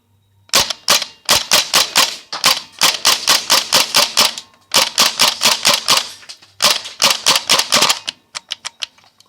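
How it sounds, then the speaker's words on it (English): Gas blowback airsoft pistol firing in rapid bursts of sharp, crisp cracks with slide clatter, in four quick strings separated by short pauses and ending in a few sparse shots as the gas runs low. "But with gas blowback, you get this."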